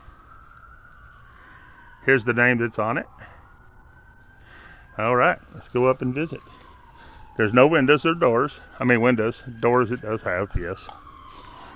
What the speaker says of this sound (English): Sorry about the sirens, guys. Something must be going on somewhere close.